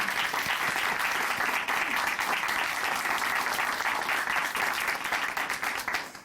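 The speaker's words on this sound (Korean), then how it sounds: "다시 한번 박수 부탁드립니다" A studio audience at a Korean Christian television programme claps warmly after a testimony, a thick, sustained round of applause that stays loud and uniform before tapering slightly at the end.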